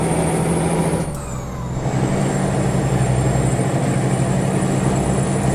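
Heavy truck engine from the game American Truck Simulator, a loud, steady diesel drone with a high whine, briefly dipping around one second before settling back into an even, continuous rumble.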